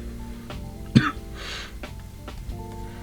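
A single short cough, close and muffled, breaks a quiet stretch with faint background hum.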